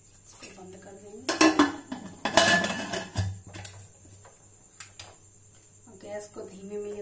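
A pressure cooker lid fitted with its rubber gasket is closed in a home kitchen, giving a couple of loud metallic clanks and scrapes of the lid against the pot, with softer clinks around them and a steady hum underneath.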